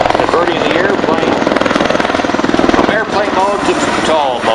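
A USMC Bell Boeing MV-22B Osprey at an airshow tilts its nacelles from airplane mode toward helicopter mode, producing a loud, steady, throbbing rotor and engine roar with a fast pulsing beat that continues throughout without pause.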